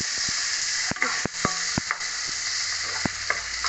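Vegetables for Maggi fry in a pan on low gas, giving a steady close sizzle broken by scattered scraping stirs and light knocks.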